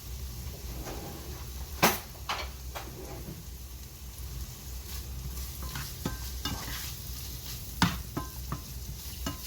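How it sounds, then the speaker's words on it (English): A T-bone steak sizzles steadily in a hot pan, a continuous crackling hiss broken by a few sharp clinks and scrapes of a spoon against the pan. "my pan is hot, so I do get a sizzle here"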